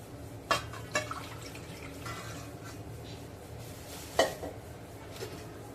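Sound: washing raw mangoes in clean water

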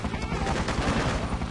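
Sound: gunfire in Freedom Fighters video game

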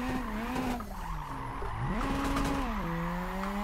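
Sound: drift car clutch kick with tire squeal at Tsukuba

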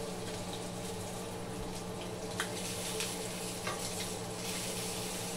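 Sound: sausages and mini pancakes frying in a skillet

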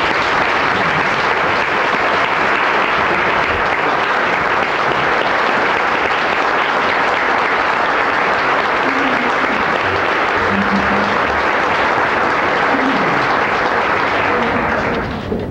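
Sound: audience applause at educators' banquet

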